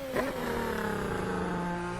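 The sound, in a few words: F1 2025 race car engine accelerating at lap start, video game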